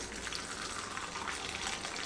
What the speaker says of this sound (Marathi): आता आपण एक एक टाकून तळून घेऊया